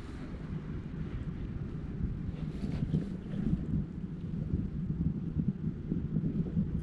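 A small boat motoring across water while out catfish fishing: a steady low engine rumble under gusting wind buffeting the microphone, near and continuous, with light splashing and no clear talk.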